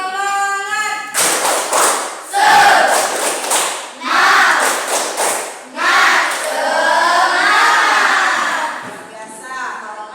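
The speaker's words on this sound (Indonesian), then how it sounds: "Kita tepuk semangat dulu ya. Tepuk semangat." A classroom of children performs a rhythmic spirit clap (tepuk semangat), with loud bursts of group clapping in patterned groups and voices chanting along, nearby and energetic.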